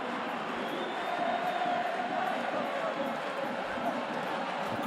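A rugby stadium crowd at a Top 14 quarterfinal swells in a sustained roar of raised voices and cheering, loud and continuous, with commentary speech running over it.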